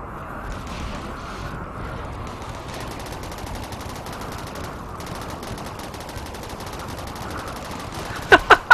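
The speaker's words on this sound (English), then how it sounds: "Ooh, they are shooting that wall apart." Sustained rapid gunfire from mechanoids blasting walls apart in RimWorld Alpha 8, a dense continuous rattle of shots with a few sharper, louder bursts near the end.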